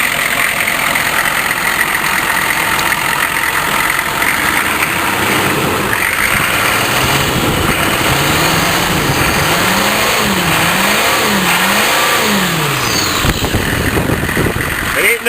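Cold 6.5 turbo diesel engine cranks and settles into a loud, steady clattering idle with a few rises and falls in revs, heard close up with a voice speaking over it.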